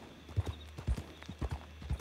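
Horse hooves clip-clop at a steady walking pace in a Red Dead Redemption roleplay, several distinct thuds landing close and clear, with no talk over them.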